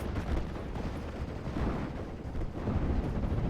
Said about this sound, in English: More ME-19s coming in for some strafing runs.